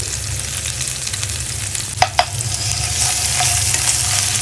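Onions and bay leaves fry in hot oil in a pan as the base for a chickpea dish, with a steady close sizzle, a couple of sharp clinks of a utensil, and the frying growing brighter toward the end.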